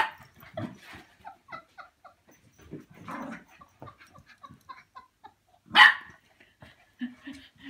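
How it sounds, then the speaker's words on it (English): A dog barks from a short distance in a yard among clucking chickens, giving scattered barks and one louder bark amid the hens' intermittent calls. "barking from a safe distance"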